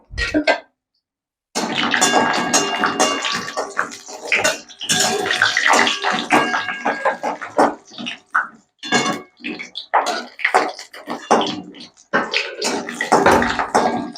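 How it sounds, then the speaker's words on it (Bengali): Lentil dumplings (bori) fry in hot oil in a wok, giving a dense, continuous sizzling crackle with short breaks and occasional clatter, fairly loud and close. "কড়াতে তেল দিয়েছি তেল গরম হয়ে গেছে আমি প্রথমে বড়িটা ভেজে নিলাম"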